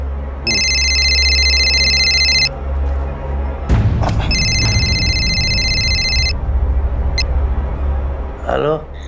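A telephone at night gives two long electronic rings, separated by a pause, with a thud and rustling between them and a voice speaking briefly.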